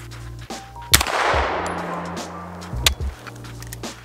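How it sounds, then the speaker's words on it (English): Handgun firing 9mm rounds at a flexible rifle armor vest from about 15 yards outdoors: a couple of sharp, separated cracks, the first loud with a lingering wash of noise and a second roughly two seconds later. "I'm going to be shooting back from about 15 yards, and I have no doubt in my mind that this is going to stop a ton of 9mm"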